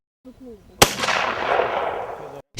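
A single sharp rifle shot cracks out loudly at a volunteer training range, followed by a long rolling echo that fades over a couple of seconds, with a brief voice before.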